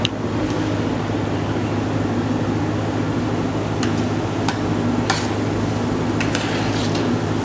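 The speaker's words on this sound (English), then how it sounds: "Then you start frying." Chin-chin pastry frying in hot oil on reduced heat, a steady dense sizzle with a low constant hum beneath, punctuated by a few faint clinks and scrapes of stirring.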